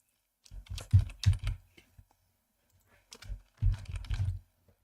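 Bursts of clattery typing on a faulty computer keyboard, two separate flurries of quick keystrokes with a short pause between them, close and fairly loud in a quiet room.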